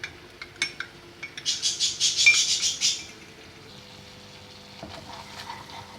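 A spoon stirs cornflour and water into a paste in a bowl, with a quick burst of rhythmic scraping and clinking lasting about a second and a half, then near quiet.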